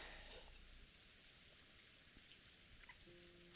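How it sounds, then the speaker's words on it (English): Rain sound effect from the Umineko visual novel, a soft, steady patter of rain hissing faintly in the background with no voices, a quiet continuous wash of drops throughout. "It was raining and windy"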